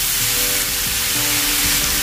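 Tomatoes and mussels sauté in a hot pan, giving a loud, steady, close-up sizzle that runs continuously without any talk.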